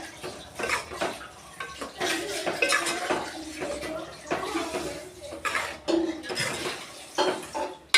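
A spoon stirs snake gourd and lentil kootu with coconut paste and water in a cooking pan, repeated scraping and clinking of metal against the pan in uneven strokes, close and fairly loud, with no talk.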